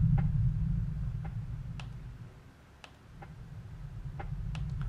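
A clock ticks steadily in the horror game Exmortis, with faint, evenly spaced ticks over a low rumbling ambient drone and no talking.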